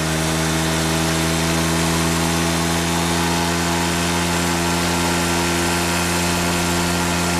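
Engine of a 1974 Cady M3 running hard, a loud, close, steady droning roar that holds constant throughout with no talk.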